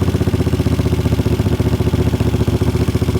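A 1975 Moto Guzzi cafe racer engine runs loud and close, a steady rapid-firing rumble that swells slightly as it is revved, with no voices.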